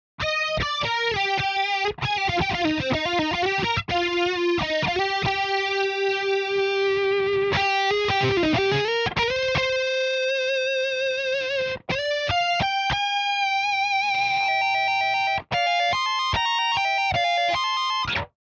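Electric guitar through the chorus effect of the STL ToneHub plugin, with a lush, shimmering sound, plays sustained notes and bends, loud and continuous with a few short breaks.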